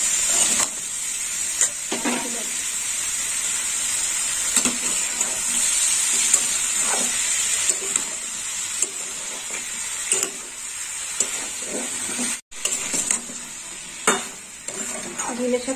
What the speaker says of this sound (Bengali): এবার দিয়ে দেবো ডিমের শাক, আর একটু ভালো করে নেড়ে চেড়ে নেবো।